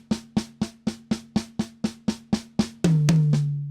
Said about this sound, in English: we play diddles on the snare, and put the paras or the singles on toms